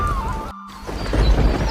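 Steady rain on a Hindi cartoon soundtrack about a small bird family in a forest during the rainy season, a continuous wash with a brief dropout partway through, mixed with other low cartoon sound effects.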